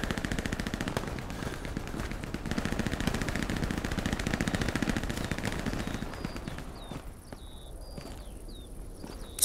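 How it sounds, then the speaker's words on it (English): A Soviet machine gun in the Hell Let Loose video game, set at Kursk, fires in long rapid bursts for several seconds, loud and continuous, then fades to quieter shots with insect chirps behind. "Soviet machine gun is completely shit."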